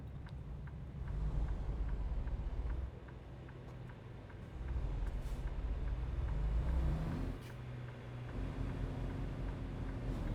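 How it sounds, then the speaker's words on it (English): A heavily loaded truck in American Truck Simulator pulling away slowly from a stop, with a steady low engine drone that swells and eases in long stretches, moderately loud and without voices. "this truck struggles to get going because of the weight"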